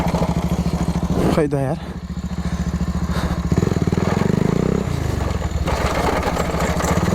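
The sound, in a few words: Bajaj Pulsar NS 220 motorcycle riding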